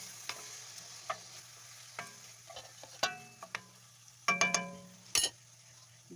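Noodles with soy sauce and pepper get stirred in a pan: scattered utensil taps and clinks against the metal, a low steady hum beneath, and a few louder ringing scrapes near the end, with no talking.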